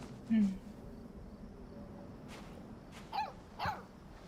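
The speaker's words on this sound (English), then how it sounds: "Like our official guard dog?" A dog in the video game Life is Strange 2 gives a few short, fairly quiet barks and yips: one near the start, then two close together near the end, over a low ambient background.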